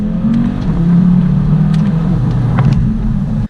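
Audi TT RS engine running steadily and loud throughout, a deep continuous drone with slight swells in revs before cutting off abruptly at the end.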